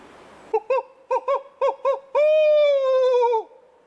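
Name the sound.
owl calling loudly in the woods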